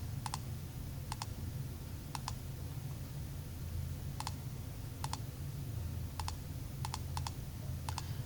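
Crisp calculator key clicks, often in quick pairs, tapped at an uneven pace over a steady low hum, with no voices.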